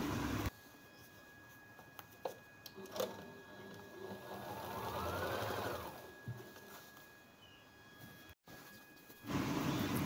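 Sewing machine stitching a turban cap, a quiet mechanical whir that speeds up and rises in pitch midway, with a couple of small clicks and a short pause near the end.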